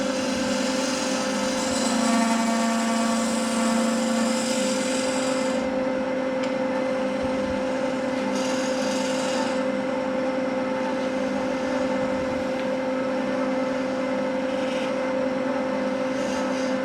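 A lathe tool cutting a wooden bowl while following the bevel, a steady loud scraping rasp over the constant hum of the spinning lathe, with slight shifts in tone as the cut moves along.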